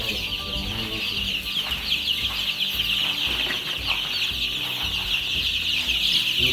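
Chickens in a poultry farm shed cluck continuously, a dense chorus of many birds close by with steady, overlapping calls and no talk.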